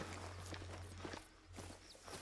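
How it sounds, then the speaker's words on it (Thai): Boot footsteps crunch along in The Hunter hunting game, a steady series of soft, close treads over continuous outdoor ambience with a low hum beneath. "ซึ่งเราต้องคอยฟังเสียงรองเท้าด้วย"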